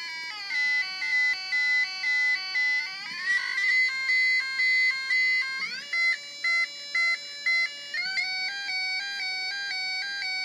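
A two-tone siren from a 555 timer chip circuit, an electronic tone steadily alternating between two pitches in a fast regular pattern, loud and up close with no voices.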